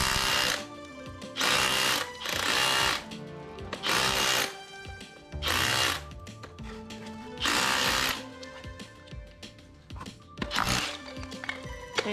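A power tool chips tile off swimming pool plaster, running in short loud bursts of rattling, buzzing chatter separated by quieter pauses, up close and with no speech.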